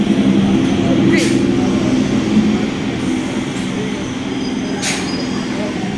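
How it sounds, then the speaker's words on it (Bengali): A steady, loud rumble of a train, with two brief hissing bursts rising over it and faint voices murmuring underneath. "ট্রেন আসছে"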